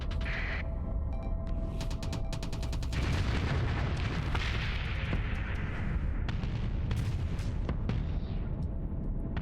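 Spaceship weapons in Starsector fire automatically in a dense, continuous barrage of booming blasts and rapid clicking shots, with heavy rumbling explosions building in the middle and sharp impacts continuing throughout, with no talking.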